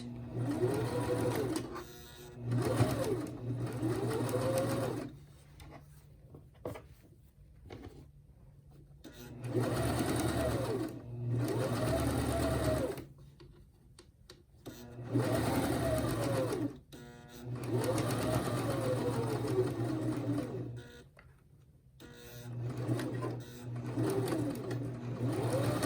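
A sewing machine backstitches a purse bag cover in several bursts of steady whirring stitching, separated by short pauses, close and clear with no talk.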